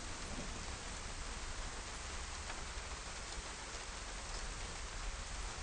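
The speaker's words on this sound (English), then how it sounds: "hopefully the rain don't last too long." Steady rain in a survival video game set in Livonia, a constant, even hiss of falling drops with no breaks, moderately loud and filling the scene, without any speech.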